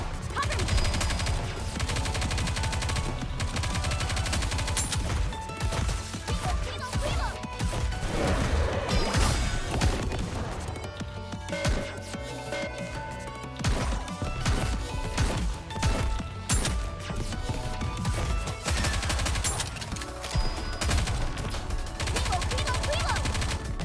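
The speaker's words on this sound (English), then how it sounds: "Everyone's firing all at once." Dense overlapping gunfire from many weapons firing at once in the mobile shooter NIKKE, a loud continuous barrage of shots and crashes with game voices mixed in.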